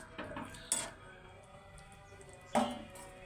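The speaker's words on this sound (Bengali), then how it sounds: "এবার আমি খানিক নাড়াচাড়া করে দেবো।" A spoon stirs meat curry in a metal pot, giving two sharp clanks against the rim with soft scraping and a low simmer between them, close and fairly loud.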